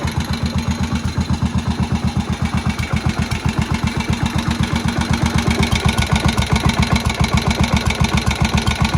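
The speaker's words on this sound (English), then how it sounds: "The motor to me really sounds quite quiet." A Moto Guzzi single-cylinder motorcycle engine, restarted after long storage, idles steadily, a low, even thumping beat that carries on without a break, heard up close.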